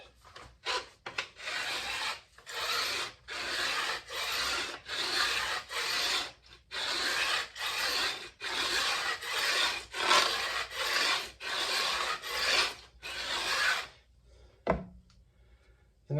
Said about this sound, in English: the file cuts the frets at an angle, right? so it kind of bevels them